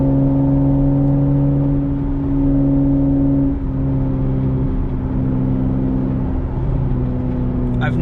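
Steady, loud engine drone of a 30-year-old Toyota Supra swapped from automatic to manual, heard from inside the car as it accelerates, with tonal engine harmonics shifting slightly midway.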